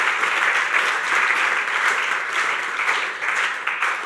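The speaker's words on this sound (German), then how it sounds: "Geben wir ihnen einen lauten Applaus aus dem Kalkofen raus." A church congregation claps loudly in a steady, dense wave of applause that holds evenly throughout with no voices rising above it.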